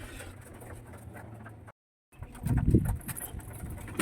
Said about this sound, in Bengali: খুব ভালো কবুতর এটা।